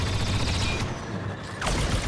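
A scattergun fires in a Star Wars Battlefront II match, with heavy, dense gunfire bursts filling the clip, a short lull, then more shots.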